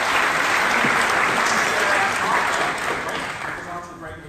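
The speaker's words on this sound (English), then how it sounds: "Can we give Michelle a round of applause?" Loud, dense applause from an entrepreneur summit audience fills the room for a presenter, sustained throughout and tapering slightly toward the end, with faint voices mixed in.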